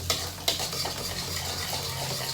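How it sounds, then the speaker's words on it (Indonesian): Egg being stirred and scrambled in a hot pan for fried rice, with a steady sizzle and a few sharp utensil scrapes against the pan early on. "masukin telurnya. Dibikin kayak orak-arik telur gitu."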